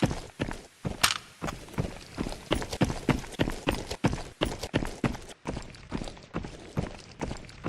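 Footsteps in a video game thud in a quick, steady rhythm, sharp near impacts repeating roughly every half second, loud and dry with hard clip-clop attacks and no talk over them.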